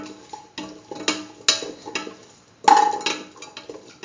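Hausa potato pieces dropped into a pot of lentil stew: scattered clunks and light clinks of chunks and a utensil against the pot, with one sharper metallic knock near the end.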